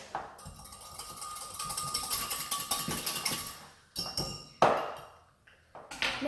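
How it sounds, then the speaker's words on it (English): Close, rapid clinking and scraping as a whisk beats oil into milk in a bowl for a chocolate chip traybake batter, with a few sharper knocks toward the end. "add the oil to the milk and whisk"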